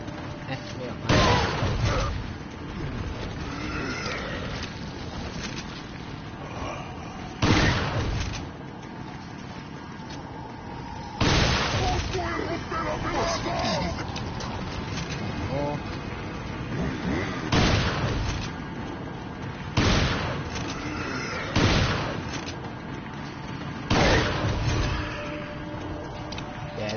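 Shotgun blasts from the video game Resident Evil 4 on professional difficulty boom out one at a time at irregular intervals, with game noise and someone talking between shots.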